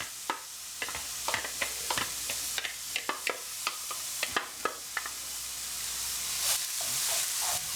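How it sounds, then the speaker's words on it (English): Onions, garlic, chilli and ginger frying in olive oil, a steady close sizzle broken by regular sharp scrapes and knocks of stirring, with no talk. "Your onions and your garlic and your chilli and your ginger, we'll fry all that mix up just for a couple of minutes."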